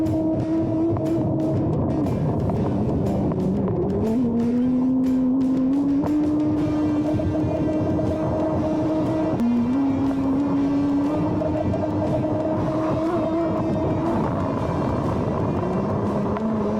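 The motor of a ProBoat U-34 8S RC hydroplane racing on water whines steadily at high pitch, its tone rising and falling as the throttle changes, close and continuous throughout.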